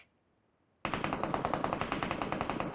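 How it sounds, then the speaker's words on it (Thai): Enemy gunfire in the mobile shooter PUBG Mobile, heard as a sudden loud burst of rapid automatic shots after a near-silent start, continuing as a steady rattling stream. "ตอนนี้เราได้ยินเสียงปืนเขาแล้วนะ"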